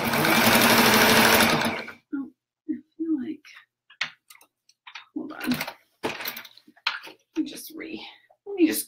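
A sewing machine stitches rag quilt pieces in a loud, fast continuous whir for about two seconds. It then falls silent while a person talks.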